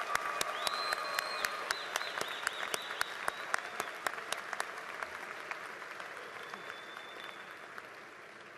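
A commencement audience applauds new doctoral recipients with dense, sustained clapping that fills a large hall, then gradually thins and softens toward the end, with no talking over it.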